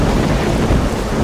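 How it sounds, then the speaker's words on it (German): Thunderstorm in the video game S.T.A.L.K.E.R. Clear Sky: a loud, dense rumble of thunder blended with heavy rain, continuous and close throughout, with no talk. "Oh, das Gewitter macht einen Krach, Mann!"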